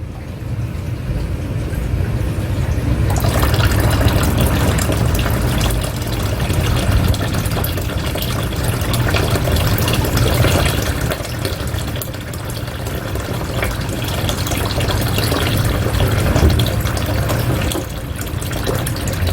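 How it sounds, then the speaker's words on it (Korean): Water poured straight into the radiator of a GSX-R1000 motorcycle to flush the coolant, a steady rushing, splashing flow that starts after a few seconds and runs on without a break, close and fairly loud, with no voices. "이쪽에서 라디에이터에서 그냥 바로 다이렉트로 부어가지고 한번 씻어 내려볼게요"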